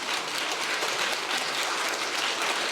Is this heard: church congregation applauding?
yes